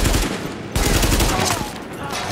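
Rapid gunfire from the video game The Division, loud dense bursts of overlapping shots with a brief break before the shooting resumes.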